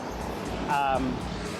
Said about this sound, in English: that's a big truck